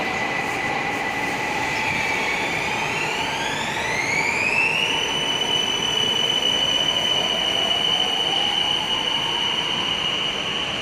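An elevated BTS Green Line electric train in Bangkok grinds slowly along the track turning left into its depot, wheels squealing in long rising tones as it turns, with a steady rumbling hum underneath.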